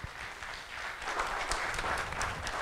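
A church audience applauds a speaker at a sermon, a dense, moderately loud patter of many hands that builds slightly and carries on steadily throughout, with no talking over it.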